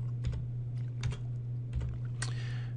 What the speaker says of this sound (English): So let's type photo here.